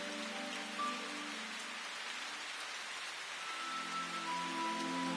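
Steady rain falling in a video game scene, a dense, even hiss of drops with faint tonal background music lines drifting underneath, continuous and moderately loud without speech.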